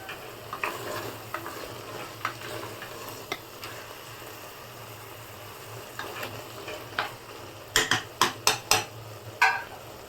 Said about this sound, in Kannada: ಚೆನ್ನಾಗಿ ಫ್ರೈ ಮಾಡ್ಕೋಬೇಕು ಹತ್ತು ನಿಮಿಷ ಚೆನ್ನಾಗಿ ಬೇಯಿಸ್ಕೋಬೇಕು ಮಶ್ರೂಮ್ ಎಲ್ಲ ಚೆನ್ನಾಗಿ ಬೇಯಬೇಕಲ್ವಾ